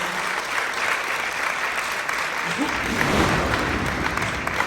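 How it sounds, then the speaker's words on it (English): A live studio audience at a talent show semi-final applauds steadily and loudly, a dense wash of clapping that carries on throughout with some crowd noise. "Round of applause, guys."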